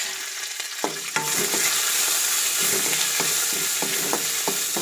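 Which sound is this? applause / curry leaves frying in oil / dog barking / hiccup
curry leaves frying in oil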